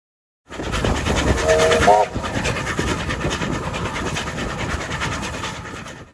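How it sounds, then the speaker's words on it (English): A mainline train rolls past a quiet rural station on New Zealand's abandoned Dunback and Makareao lines, loud and close, with a brief horn near the start and a steady rumble and clatter of wagons that carries on to the end. "Today it is a very quiet place, disturbed only by the occasional passing of mainline trains."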